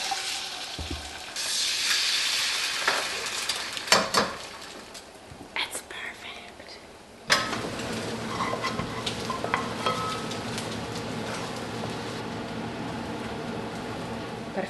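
Scrambled egg whites are stirred and cooked in a pot, with soft sizzling and frying hiss, scraping stir strokes and occasional utensil clicks, fairly quiet and close.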